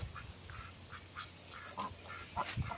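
Several farmyard ducks give short, separate quacks at a moderate distance, with a couple of louder calls near the end, over a steady low rumble and light ambient noise.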